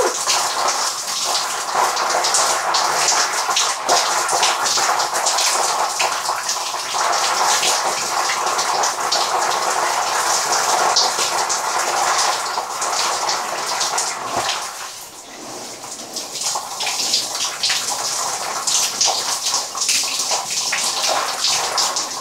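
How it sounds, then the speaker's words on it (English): Cold shower water runs hard and steady, a dense close hiss of spray spattering on a surface, with a brief dip in the flow partway through before it resumes at full force. "I don't want to like take a cold shower, but I have to do it"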